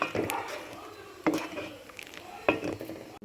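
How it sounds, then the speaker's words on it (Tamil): A spoon stirs sugar into halwa in a pan, giving soft scraping strokes at uneven intervals with a quiet sizzle underneath, close and fairly faint. "இப்போ ஜீனி சேர்த்தோடனே நல்லா கிண்டிக்கிட்டே இருக்கணும்"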